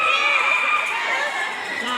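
A lively crowd at a birthday party contest shouts and cheers for a winning candidate, a dense, loud wash of overlapping voices and screams with no clear pauses.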